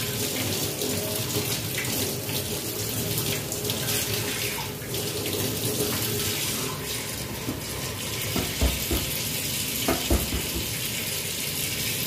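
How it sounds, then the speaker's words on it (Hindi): Hands washed under a running kitchen tap, a steady close splash of water pouring into a sink with a few louder spatters and clatters near the end. "ये लीजिए हाथों को धो लिया मैंने"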